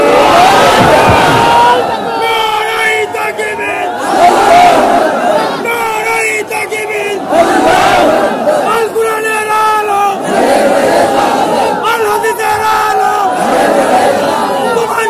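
A large crowd at an outdoor Islamic waz mahfil in Satkhira roars a takbir chant in unison, repeated loud surging shouts filling the whole stretch, with dense overlapping voices and babble between the swells.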